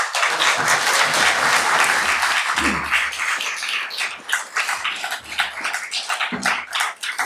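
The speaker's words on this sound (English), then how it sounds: "Please join me in giving a big round of applause to Charles Demers." Audience at a writers festival keynote breaks into applause, loud dense clapping at first that thins and becomes more scattered, with a few low thumps toward the end.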